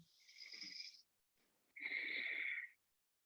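Two slow, breathy exhalations in a quiet yoga practice, heard close and soft with a short pause between them and no talking.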